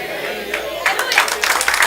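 Church congregation applauding during a service, a rising wash of claps and crowd noise building over a steady hum, fairly loud and brief.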